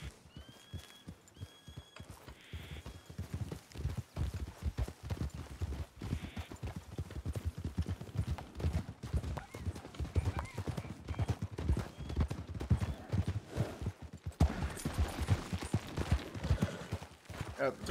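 Horse hooves clip-clopping at a steady walk in the Red Dead Redemption II video game, a continuous rhythmic patter close by, with people talking over it throughout.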